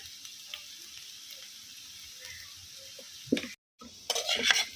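A pan of potato fry with ground dried red chilli and garlic masala is stirred and fried, giving a soft, steady scraping under faint sizzle, then a few louder metallic clatters of the spoon against the pan near the end.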